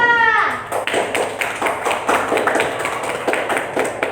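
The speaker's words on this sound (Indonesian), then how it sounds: "kita beri tepuk tangan untuk kelompok 2" Classroom applause for a student group after its presentation, a short burst of uneven clapping from students, with a voice heard briefly near the start.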